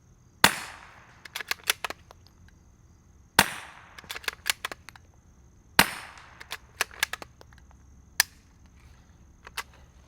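Three suppressed gunshots through a Hansohn Brothers MOD F4 suppressor at about 25 yards, each a soft, sharp pop with short echoing crackles and reflections trailing after, spaced a few seconds apart outdoors.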